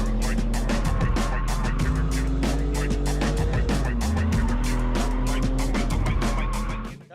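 A car drifting around a cone with the handbrake, engine roaring loudly and steadily while tires squeal and skid in long wavering screeches, the sound dropping away abruptly at the end.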